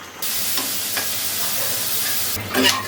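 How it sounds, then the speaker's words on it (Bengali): Close, loud sizzling of prawns and a hilsa fish head frying in mustard oil, a continuous hiss broken by a few utensil clicks and a stirring scrape near the end. "সরিষার তেল, চিংড়ি মাছ আর ইলিশ মাছের মাথা ভেজে নেব।"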